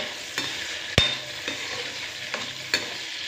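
Tomato chutney bubbles and fries in a pan under a soft, steady sizzle, with a few sharp spatula knocks and scrapes as it is stirred.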